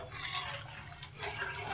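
Water is poured into a cooking pot of simmering mixture, making a brief, steady, close splashing rush at a soft level, with no voices.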